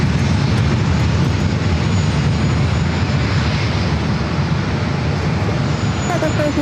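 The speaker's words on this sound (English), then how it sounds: "we have a Air Canada Airbus A220-300. It will be the next commercial jetliner for takeoff on 27." An Air Canada Airbus A220-300 jetliner roars down runway 27 at San Diego airport on its takeoff run, a loud, continuous broadband engine rumble that stays strong throughout.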